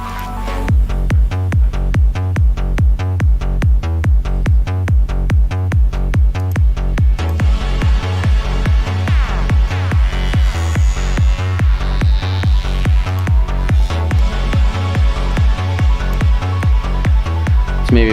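A rhythmic, repeating musical loop drenched in heavy, washy reverb, steady and loud throughout with a smeared, echoing tail on each beat.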